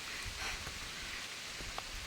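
Steady rain falls in a village setting, a constant soft hiss with faint scattered drops, quiet and continuous with no voices.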